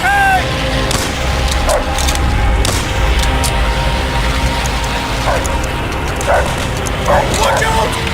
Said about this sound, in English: Watch out! The dog!